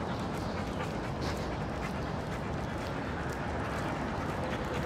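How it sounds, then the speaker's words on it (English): A golden retriever passes on an outdoor walk, its faint panting and snuffling mixed into a broad, constant wash of outdoor noise, with no clear bark standing out. "Golden retriever up here."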